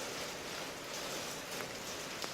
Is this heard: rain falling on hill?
yes